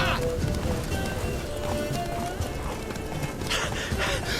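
The horse in The Witcher 3: Wild Hunt gallops at a quick, steady pace, its hoofbeats close and loud over dense game sound throughout.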